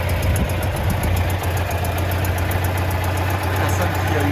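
A 1981 Citroën 2CV6 Charleston engine idles steadily up close, a low continuous rumble with a faint rhythmic knock and no talking.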